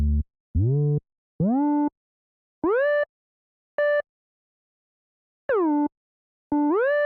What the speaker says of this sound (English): I know this is just a bass, but I'm actually going to end up playing it on some higher notes.